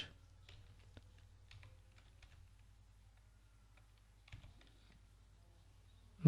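Quiet keystrokes on a computer keyboard as a web address is typed into a browser, with soft irregular clicks in short bursts and no talking.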